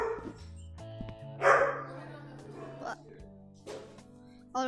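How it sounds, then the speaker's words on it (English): Dogs barking indoors, a few sharp, separated barks and yips at moderate distance, mixed with a person talking nearby. "those are just my dogs barking if you hear them"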